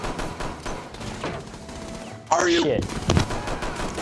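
Gunfire during a Rainbow Six Siege round, a rattle of rapid shots under constant background game noise, with a sharper burst near the end while a player speaks briefly.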